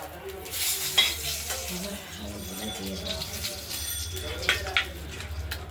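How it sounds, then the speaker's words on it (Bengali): Bay leaves and nigella seeds sizzle in hot oil for a rohu fish curry, a close frying crackle with stirring scrapes and light metal clinks of pan and utensil, while someone speaks over it. "এবার আমরা ফোড়ন হিসাবে দেব, আমরা ফোড়ন হিসাবে দেবো তেজপাতা, কালো জিরে"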